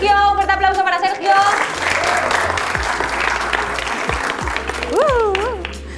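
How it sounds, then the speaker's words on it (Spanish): An audience at a school show applauds loudly and continuously for a winner, with cheering and a voice over the clapping near the start and end. "Un aplauso para la ganadora."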